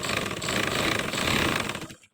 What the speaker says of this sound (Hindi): यहाँ पर मैं सिलाई लगाऊंगी